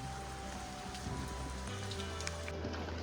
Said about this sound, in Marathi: मसल्यातनं निघाल्यापासून पावसाने जी सुरुवात केली आहे